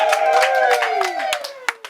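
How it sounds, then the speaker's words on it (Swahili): Birthday-party audience clapping with a loud ululating voice sustained over the applause, close and lively, the cheering tapering into a few scattered claps. "Makofi na vigelegele kwa Majoji na jamani."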